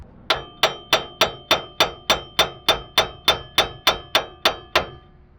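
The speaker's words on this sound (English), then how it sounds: "So now I'm gonna take a hammer and a pry tool or something and we can start hammering this out." A hammer strikes metal while working loose a wheel hub on a Nissan Frontier, about fifteen sharp, ringing clangs in a steady, even rhythm, each decaying quickly, close and alone with no talk.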